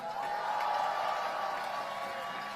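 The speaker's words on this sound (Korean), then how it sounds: "큰 박수 부탁드립니다" A crowd applauding and cheering in a large hall, a steady wash of clapping heard from some distance.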